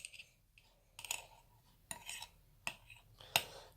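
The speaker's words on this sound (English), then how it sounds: "Basically just stir it. I've got a little spoon here." A little spoon clinks and scrapes against a bowl while stirring a wine gum mixture, a handful of sharp metallic clicks separated by short quiet gaps, close and alone.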